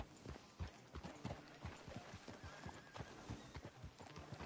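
Horse hooves clip-clop in a steady rhythm with a whinny in the Red Dead Redemption 2 game, fairly close.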